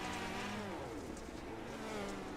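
Onboard engine of a dirt outlaw race car at Williams Grove, revving and easing as the driver modulates the throttle, a steady close roar with rising and falling pitch throughout.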